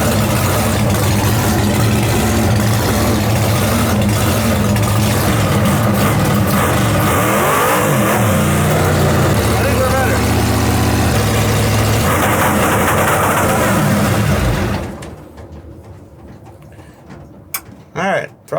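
Drag race car engine revving loud and steady with its throttle stuck wide open, a continuous roar holding for about fifteen seconds before cutting off abruptly, followed by quieter pit sounds and a few faint clicks.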